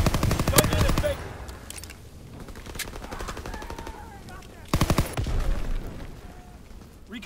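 Machine gun fire rattles in Call of Duty: WWII during a domination match on the Baker objective, with two dense, loud bursts at the start and near the end, separated by quieter battle noise and radio-style game voices.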